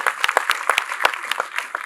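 An audience at a film teaser event claps in sharp, scattered bursts. The applause is thin and uneven, with a few distinct handclaps rather than a dense roar.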